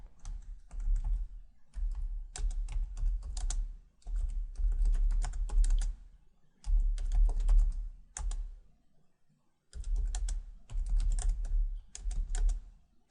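Someone types on a computer keyboard in quick clattering bursts of keystrokes, close and clear, broken by short pauses, with no talk.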